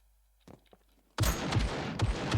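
Gunfire in the survival video game SCUM: after a few faint clicks, a sudden loud burst of rapid shots erupts and keeps going in repeated cracks, close and dense.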